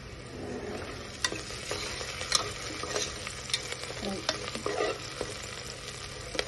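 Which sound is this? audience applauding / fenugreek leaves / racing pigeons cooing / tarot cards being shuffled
fenugreek leaves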